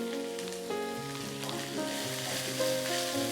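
Sliced onions with a pinch of salt fry in oil for a beef pepper fry, producing a continuous, close, crackling sizzle with light stirring and no talk.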